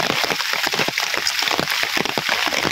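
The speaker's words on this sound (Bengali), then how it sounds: "কারাকারি ভালো বৃষ্টি" Heavy rain falls steadily and close by in a rural Bengal home, a dense, continuous hiss spread with scattered louder drops and splashes hitting nearby surfaces throughout.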